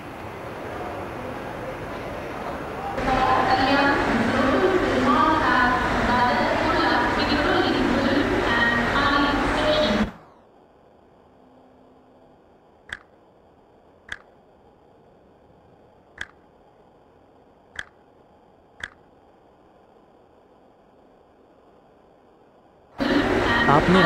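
A local train rumbles steadily in an Indian local train simulator game, loud and continuous for several seconds before cutting abruptly to near silence broken by a few sharp clicks, then the rumble returns.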